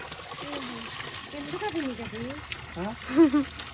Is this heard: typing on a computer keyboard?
no